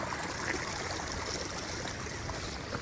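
A river stream in a Nepali village rushes steadily nearby, a dense, even wash of flowing water with faint trickling detail and no voices.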